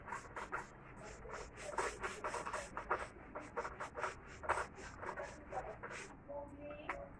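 Writing being rubbed off a board during an electrical circuits lecture, a series of quick, scratchy swipes in an uneven rhythm, close and fairly quiet, with no talking.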